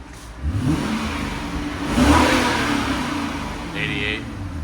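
A stock-bodied 2006 Lexus SC 430 with a 4.3L V8 and muffler delete revs up, a loud, raw exhaust roar that swells mid-clip and then holds, with a voice briefly heard over it.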